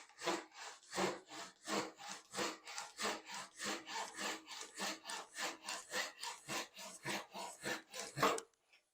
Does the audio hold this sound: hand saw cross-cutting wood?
yes